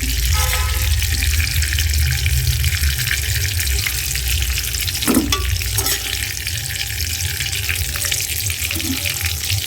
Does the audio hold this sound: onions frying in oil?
yes